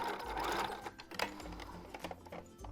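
A sewing machine stitches a pair of pants to turn them into bell bottoms, running in a few short bursts of rapid mechanical clatter, fairly quiet and close.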